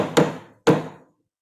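A rubber or rawhide mallet strikes an annealed metal tab resting on a metal block, two separate dull thuds about half a second apart, each with a short fading ring, close and clear with no talking.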